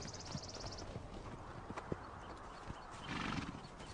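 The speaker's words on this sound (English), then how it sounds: "Even the band stallion Boomer tries to encourage the foal." Wild horses, a band stallion and a foal, move in a meadow with scattered soft hoof clops, snorts and a brief whinny, all fairly faint and set against low ambient noise.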